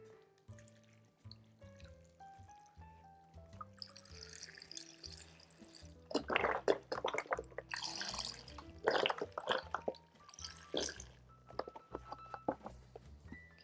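Low-sodium vegetable stock pours into a pot for vegan chili, a splashing, trickling flow that builds midway and dribbles off, heard under soft background music, with no talk.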